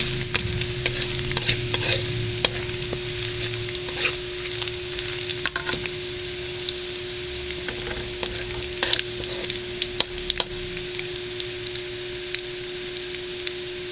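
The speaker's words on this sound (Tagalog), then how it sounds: "Ayan po ang ating bawang. Gawin natin medyo brown naman." Garlic frying steadily in a pan with continuous close sizzle, broken by repeated scraping stirs and clinks of a utensil, with no talking.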